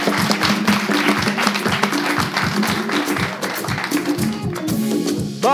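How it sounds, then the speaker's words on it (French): Applause for Bob, a guest on a French TV entertainment show, mixed with rhythmic tapping or clapping beats and a busy low background, steady and fairly loud throughout. "Applaudissements pour Bob."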